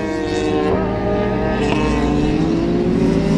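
A Honda CB 500 and a Yamaha XJ6 race on a road, their engines rising in pitch as they accelerate, loud and close with a continuous strained whine.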